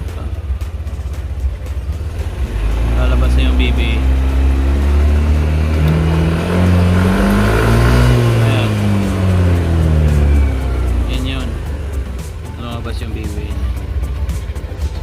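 A Yamaha NMAX v2 scooter engine rises smoothly from idle into a sustained high rev around 6,000 rpm and then settles back down, loud and close, with someone talking over it.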